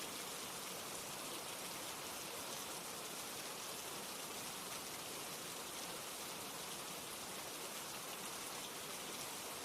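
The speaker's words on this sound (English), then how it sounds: "listening to the rain" Steady rain falling outdoors, an even, continuous hiss of drops on surfaces that holds at a constant level throughout, with no voices.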